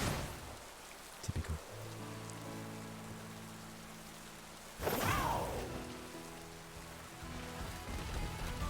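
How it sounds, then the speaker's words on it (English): Steady rain hisses across the whole stretch in a Pokemon video game, soft and even, broken by a brief whoosh midway, with a game music tone running underneath and a short spoken word near the start. "It's raining."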